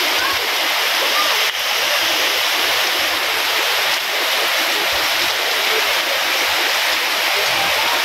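Heavy rain from Typhoon Pepito pours down with flowing water, a dense, loud, steady hiss filling the whole stretch without a break.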